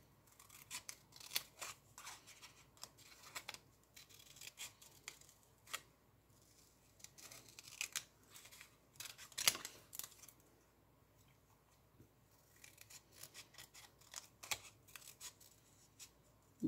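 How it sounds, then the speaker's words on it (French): Scissors snip steadily through a paper label, each close, quiet cut arriving in an irregular run alongside faint paper rustling. "Je vais découper l'étiquette parce que elle, je vais sûrement la laisser"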